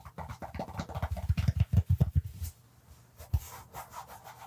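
Fingernails scratch fabric on an NHL hockey jersey in a close, rapid series of rough rubbing strokes, then pause briefly before softer scratching resumes.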